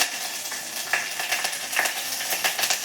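Bay leaf, cloves, curry leaves and chili sizzle in hot oil for Gujarati sweet-sour dal, a steady close crackling hiss with a few light clinks of stirring.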